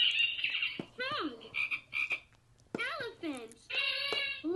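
A toy piano's animal-sound key plays a recorded frog croaking, a repeated series of loud, throaty croaks in bursts, with an adult voice speaking nearby between them.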